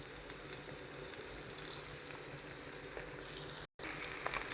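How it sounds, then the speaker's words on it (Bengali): Large-fish roe frying in a pan, a soft continuous sizzle and crackle heard up close at low volume with a brief dropout near the end. "ধীরে ধীরে ডিমটা লাল হয়ে যাচ্ছে। ভালোভাবে আমি ভেজে নিতেছি।"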